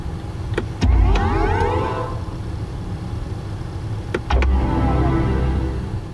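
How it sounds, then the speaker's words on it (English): A 2022 BMW iX electric SUV plays its futuristic startup sound: two synthetic swells of sweeping, video-game-like tones, each opening with sharp clicks, heard clearly inside the cabin with no talking. "getting in and turning it on and the sound it makes when you do. Kind of a futuristic video game sound."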